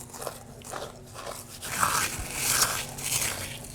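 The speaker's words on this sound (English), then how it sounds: "I'm gonna smash up these chips into the Panko." Dorito chips being crushed by hand into panko crumbs, a series of close, soft crunching and crackling bursts with brief pauses between.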